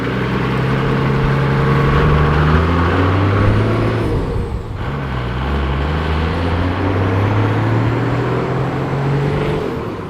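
A custom 45 series Landcruiser built from farm parts runs loud and close, its deep exhaust rumble rising and falling, with a faint higher whine from the turbo sitting above the engine drone.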